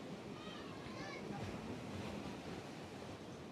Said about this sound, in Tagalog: Habang nakikinig kami sa sa alon ng dagat